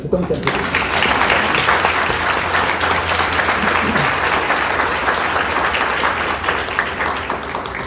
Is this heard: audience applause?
yes